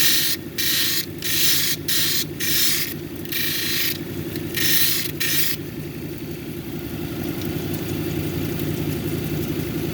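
A lapidary machine hums steadily while a bloodstone cabochon is pressed to the wheel in repeated short bursts of grinding on its edge, after which only the motor's even drone is left.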